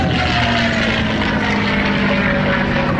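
A Mustang propeller fighter flies past at an air show in Southport, its engine a loud, steady drone with a low throbbing tone that holds for the whole three seconds and carries no voices.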